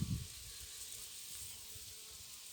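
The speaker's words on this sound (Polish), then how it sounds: "jak tutaj widać na tych habrach jest masa pszczół" Faint, continuous buzzing of bees on cornflowers in a field in the open air, low and steady, with a brief rustle at the start.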